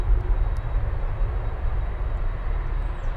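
A TUI airliner at Manchester Airport gives a steady, loud low roar of jet engines that holds without a break, with no voices over it.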